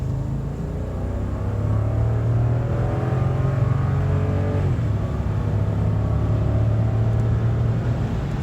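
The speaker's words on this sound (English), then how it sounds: "I'm going to give you guys a quick acceleration run so you can see" A 2019 Lexus LX 570 accelerating hard uphill onto an on-ramp from about 15 mph: a steady, loud engine drone that climbs in pitch as the revs rise, heard from inside the cabin with no talk.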